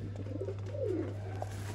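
A domestic pigeon, a male bird kept by a Sialkot fancier, gives a single soft, low coo at close range, one falling rolling note over a steady electrical hum with faint background noise.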